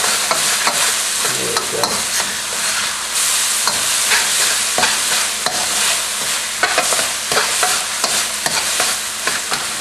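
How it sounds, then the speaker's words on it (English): Shallots, ginger and garlic sauté and sizzle in a pan for Nyonya chicken, a continuous loud frying hiss broken by repeated scraping stirs from a utensil, with a brief spoken remark. "I'm going to saute this for another 2 or 3 minutes, get them translucent, lightly brown"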